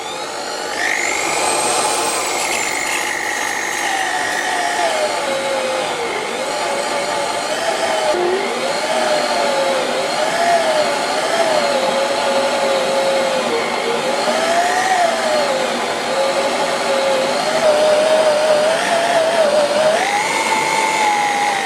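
A small 10mm spindle motor spins a 5mm drill bit, giving a steady high-pitched electric whine that wavers and shifts in pitch as its speed changes, running continuously and close by without talk.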